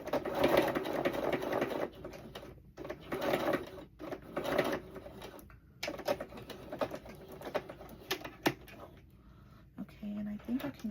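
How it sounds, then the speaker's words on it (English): Close sewing machine stitching in short rapid bursts with pauses between runs, sewing from one stitch line to the next, fairly quiet, with a person talking over parts of it. "I'm sewing from line to line, from stitch line to stitch line"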